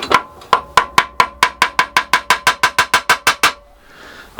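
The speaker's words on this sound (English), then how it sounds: "Let's give it a gentle tap." Metal hammer strikes on a stuck bandsaw wheel in a small workshop shed, about seventeen evenly spaced ringing taps in quick succession, close and sharp, then stopping.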